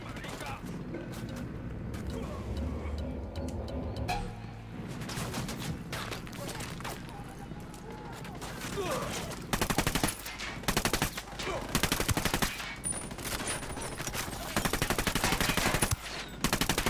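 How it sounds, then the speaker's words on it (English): Rapid bursts of automatic gunfire crackle in Ghost Recon: Wildlands as cover fire is laid down, loud repeated volleys dominating the second half over game ambience and voices. "I'm just laying down cover fire until I can get into cover."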